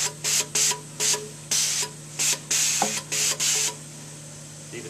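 Stain remover sprayed onto a red wine stain in carpet, about ten short hissing bursts in an uneven rhythm, close and fairly loud over a steady low hum.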